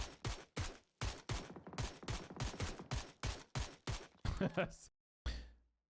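Progressive pump shotgun in PUBG fires about a dozen sharp, loud blasts in a steady rhythm, each shot separated by a brief pump gap, ending with a short pause and one final blast.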